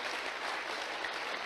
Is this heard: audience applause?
yes